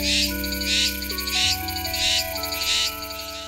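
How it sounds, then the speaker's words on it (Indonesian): Pulsing insect buzz swells and fades in regular bursts, with steady electronic-sounding tones underneath; the rhythmic shrill drone suggests cicadas. "Mereka mengorkestrasi suara khas sehingga banyak orang yang menduga bahwa suara tersebut tidak berasal dari makhluk kecil bernama Tonggeret atau Cicada"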